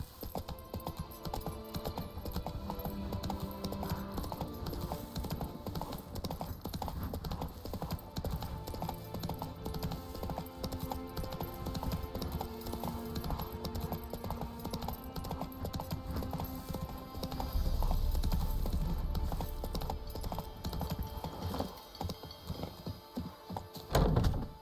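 Horse hooves clip-clop steadily in The Witcher 3 while riding, a continuous rhythmic trot over a bed of game music, with a brief louder passage near the end.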